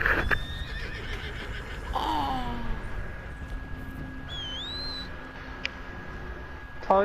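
A horse in a video game lets out one loud, descending whinny near the start, then a quiet stretch with a steady electronic hum and a few faint chirps.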